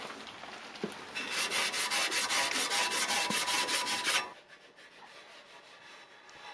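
Steady abrasive rubbing or sanding scrubs across a welding table surface for about three seconds, loud and close, then stops and leaves quiet room noise.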